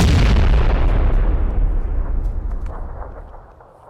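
A grenade detonates in a video game: one loud, close boom whose deep rumble slowly fades over several seconds, with no voices.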